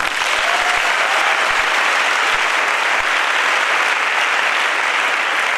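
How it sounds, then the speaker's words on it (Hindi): An audience at a company event applauds achievers with loud, dense, sustained clapping that fills the room evenly from start to finish. "उन सभी अचीवर्स के लिए ताली होनी चाहिए"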